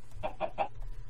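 A Minecraft chicken gives three quick, evenly spaced clucks, soft and close against a faint low background hum, followed by quiet.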